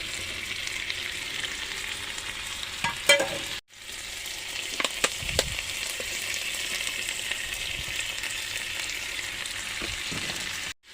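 Chicken stir-frying in a pan for Chinese noodles with sautéed vegetables, cooked in a camper van, giving a steady close sizzle with brief scraping stirs and one short break in the frying.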